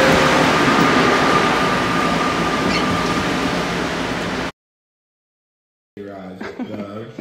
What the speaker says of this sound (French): C'est parti pour prendre le métro.